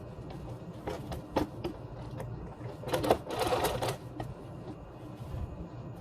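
Quiet, close whirring and clicking from a sewing machine stitching the folded edges of a fabric face mask, in short uneven bursts over a soft background hum.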